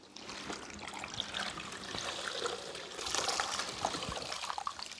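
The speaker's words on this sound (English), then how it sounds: "we're giving it a squeeze rather than wringing like you're wringing a cloth" Water trickles and drips from a suit pressed by hand during cleaning, a steady close liquid patter with small splashes throughout, no talking.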